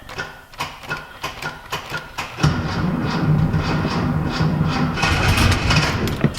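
A Datsun 240C engine cranks on the starter in steady rhythmic pulses for about two seconds, then catches and settles into a louder, continuous running note close by.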